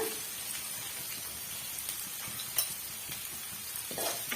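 Ridge gourd and onion sauté in a pan, giving a steady low sizzle with occasional scraping stirs and a brief clatter, moderately close, no talking.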